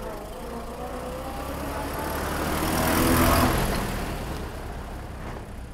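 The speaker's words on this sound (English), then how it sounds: "We're going to take a ride in this beautiful 1920 Dodge, see how it performs." A 1920 Dodge Brothers touring car engine runs with a steady low rumble that swells slightly louder midway and then eases off, with no talking over it.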